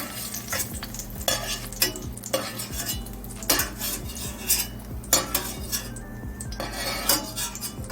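Salmon pieces frying in oil flavoured with aromatics in a pan, a soft steady sizzle beneath repeated close clinks and scrapes of a utensil stirring against the pan, with no talking.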